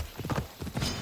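Close clip-clopping of a horse's hooves on a road in Assassin's Creed Odyssey, several quick beats in a loose trot rhythm, with no voices.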